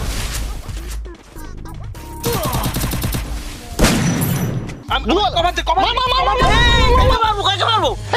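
Gunfire in the Free Fire video game: bursts of shots and crashing impacts come and go over about eight seconds, loud and busy, mixed with game voices and sound effects.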